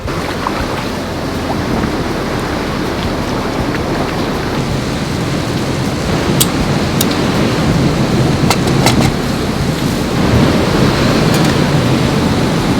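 Ocean surf washes against the shore in a loud, continuous broadband roar, with gusty wind noise and occasional sharp crackles.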